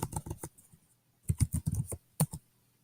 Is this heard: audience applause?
no